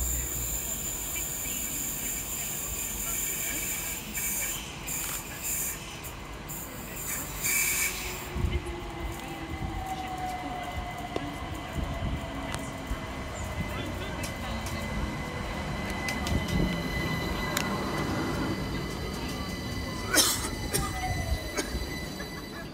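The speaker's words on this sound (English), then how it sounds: "we see 378210, working the 1527 London Overground service from Clapham Junction through to Stratford" A London Overground Class 378 electric train works through Imperial Wharf station, rolling in with rumbling wheels and a drawn-out, high wheel squeal, while voices carry faintly on the platform amid station ambience.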